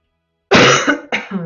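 A person coughs or clears their throat twice in quick succession, close to the microphone, during a WildStar game housing session; a long harsh burst is followed by a shorter one.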